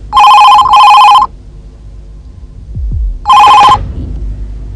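An indoor home telephone rings loud and close, with two quick electronic bell bursts, a short lull, then another ring beginning.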